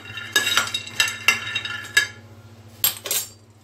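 Almonds being stirred while roasting in a pan: a spoon scrapes and clinks against the metal in several sharp, close strokes, with pauses between them.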